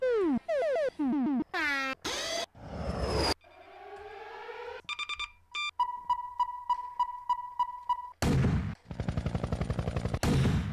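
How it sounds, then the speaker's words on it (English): A punchy gunshot-style sample sits among a rapid string of short, loud electronic sound-effect hits, zaps and tones, auditioned one after another while building a speed garage track, with no talking. "It's kind of a gunshot sound there."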